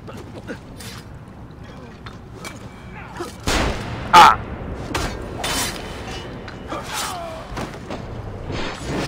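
Gunfire in Assassin's Creed: Revelations, a few sharp shots and thuds breaking through mechanical creaks and clatter, with one louder bang standing out midway. A voice talks at times beneath the game sounds.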